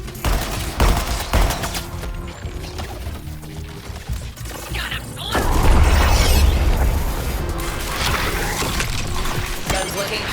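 Rapid weapon fire in the video game Suicide Squad: Kill the Justice League, bursts of shots and mechanical clatter with booms and shattering effects, loud and dense over game music.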